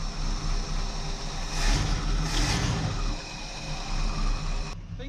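A barn-find Lincoln Mark III that had sat for almost 40 years runs at a steady idle, a continuous low engine rumble close to the microphone with no talking.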